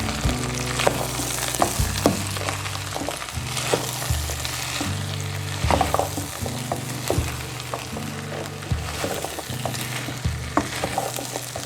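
Okra and red and green chillies fry in a pan while a spoon stirs them, producing regular scraping strokes and clanks over a continuous loud sizzle and hum, close up and without speech.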